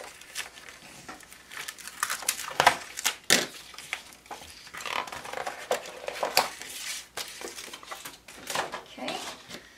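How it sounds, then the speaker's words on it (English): Tape being peeled off the sides of a paper box, quiet close-up crackling and tearing bursts in an irregular rhythm, with occasional crinkling of paper and no voice. "I'm just going to take all my tape off the sides."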